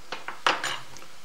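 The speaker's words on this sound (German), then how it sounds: "jetzt einfach die Spaghetti oder die Nudeln tropfnass in die Pfanne geben" Dripping wet cooked spaghetti dropped into a pan for carbonara, heard as a few short clattering metallic clinks and scrapes of pan and utensil, with one louder clash in the middle, close and alone.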